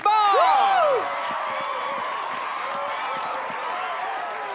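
Studio audience applause and cheering fill a televised fashion and dance competition stage, starting under a burst of high voices and whoops, then settling into steady, dense clapping that continues to the end.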